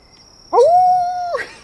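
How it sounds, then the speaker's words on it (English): A single long, steady howl rises out of near silence in the woods and then trails off, loud and clear, over a constant faint high hum. "you hear multiple howls pick up from around you"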